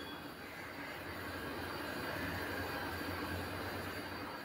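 A train at a railway junction rumbles with a continuous low roar and faint wheel squeal, steady and moderately distant throughout.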